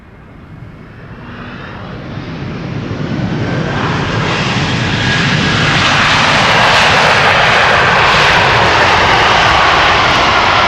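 A jet airliner passes slowly overhead at Schiphol Airport, its engine roar building from a distant rumble into a loud, sustained, close wash of noise with no voices.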